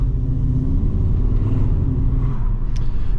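2022 Skoda Octavia vRS heard from inside the cabin while driving on country roads, a steady low engine and road rumble with constant tyre noise, close and even, with no talking.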